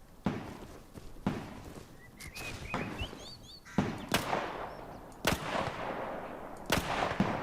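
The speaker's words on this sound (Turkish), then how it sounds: "Bak onlar da bana sıkıyor bak" Enemy gunfire in the Between Empires mod for Mount & Blade: Warband, scattered sharp shots near and far with irregular spacing, mixed with faint high whistling tones and light movement noise.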